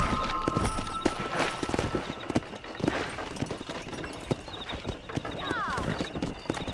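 A horse galloping in the Red Dead Redemption video game, hooves clip-clopping in a fast steady rhythm up close, with voices talking over the hoofbeats throughout.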